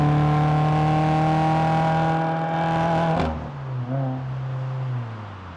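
A car's exhaust, recorded close at the rear, holds a loud steady high rev for about three seconds, then drops sharply to a rough idle with a couple of brief blips.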